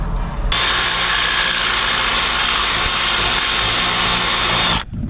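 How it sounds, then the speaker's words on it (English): A cordless power drill whines loud and steady for several seconds, enlarging a battery terminal, starting and stopping abruptly, close up with no talk. "we've just got to drill it out slightly bigger"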